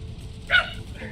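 A single deep bark from a big dog rings out once, moderately close, over a quiet background.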